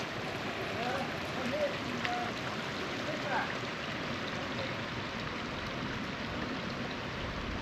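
Fresh water running off toward the peat-brown River Tees near High Force waterfall in County Durham, a steady broadband rush that holds even throughout, with faint voices in the background.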